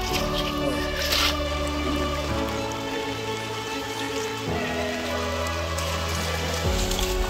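A sudden unseasonal rain shower in the Konkan patters steadily on surfaces, a dense continuous hiss of drops under a constant tonal hum, with no pauses.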